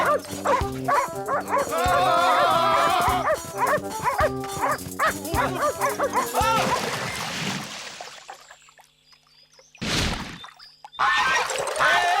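Several dogs bark and yelp in a dense, loud burst of overlapping calls in a French cartoon scene, then fade out before brief noisy splashes and clatter return.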